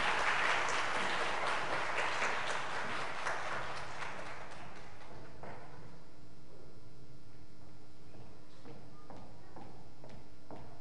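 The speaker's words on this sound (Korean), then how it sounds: "큰 박수로 맞이해 주시면 고맙겠습니다" A church congregation claps in welcome as a speaker comes up to the stage, dense applause at moderate distance fading out over several seconds into scattered claps, shuffling and room murmur.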